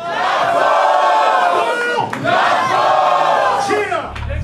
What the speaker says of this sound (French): Faites du bruit pour Axel dans